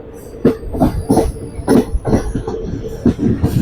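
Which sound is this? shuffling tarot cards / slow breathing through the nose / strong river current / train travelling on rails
train travelling on rails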